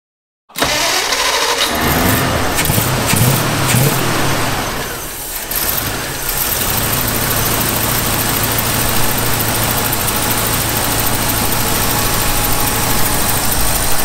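A 1963 Ford B100 pickup's 292 Y-Block V8 catches after a brief crank and roars to life, revving unevenly at first, then settling into a loud, steady, rough idle heard up close.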